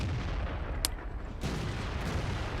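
Tank cannon fire in World of Tanks: a sharp close blast followed moments later by a heavier boom, over a constant low battlefield rumble.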